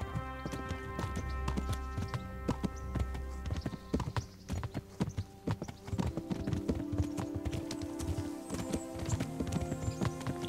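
Hooves clatter in a fast, regular clip-clop as a horse is ridden in Kingdom Come: Deliverance, close and crisp, with a brief whinny-like tone and no talk over it.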